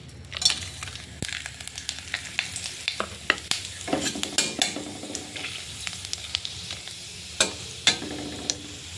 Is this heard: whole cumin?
yes